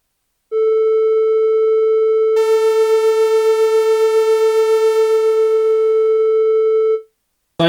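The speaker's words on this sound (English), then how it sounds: "So that was the 440 button on the Moog Model D." A Moog Model D synthesizer plays its 440 Hz tuning tone, a loud, steady sustained note with no talk. It holds for about six seconds, grows brighter and buzzier partway through, then stops abruptly.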